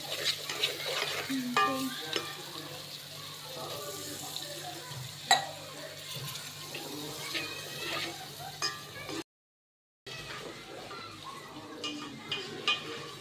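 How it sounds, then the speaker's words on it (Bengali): Faint sizzling in a pan with scraping stirs and occasional clinks, steady and close; speech is faint in the background. "দেখো কি কষাইতেছে।"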